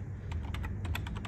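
A computer keyboard typed on at close range, producing a quick, irregular run of light plastic key clicks with no talking over them.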